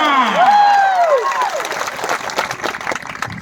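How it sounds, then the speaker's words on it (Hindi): A crowd at a village youth welcome gathering claps and cheers loudly, a dense patter of hands that is briefly overlaid by a rising and falling synthetic whoosh tone before thinning out. "जोरदार तालियों गड़गड़ा"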